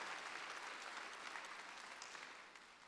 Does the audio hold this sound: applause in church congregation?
yes